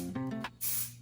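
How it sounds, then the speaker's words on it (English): Aquage texture spray misted onto hair from an aerosol can, a short breathy hiss of about half a second following a brief shake and rustle, close and fairly soft. "I'm just using some Aquage texture spray."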